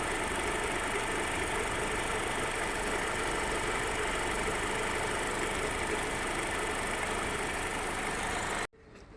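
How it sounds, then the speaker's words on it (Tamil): Used car engine idling with oil spraying, a steady mechanical hum and faint ticking held evenly for several seconds before cutting off abruptly near the end. "இன்ஜினோட ஐட்லிங் ஆர்பிஎத்துலேயும் இப்படி அடிக்குது."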